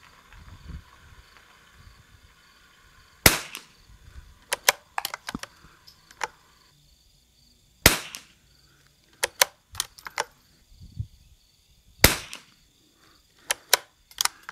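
Sharp .22 sporter rifle shots at an outdoor match on a windy day, fired in spaced bursts of several cracks each, loud and close with quiet gaps between strings.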